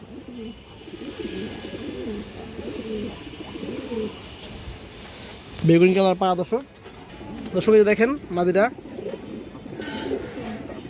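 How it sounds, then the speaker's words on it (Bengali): Low pigeon cooing rolls on in the background from a restless pigeon, while someone speaks loudly up close in two bursts that nearly cover it. "খুব চঞ্চল কবুতর"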